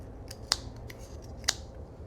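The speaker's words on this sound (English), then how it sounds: "we're going to bend this once it goes through, and we're going to cut off the excess" Scissors snip off the excess length of a homemade forever candle wick, two sharp close cuts about a second apart against a quiet room.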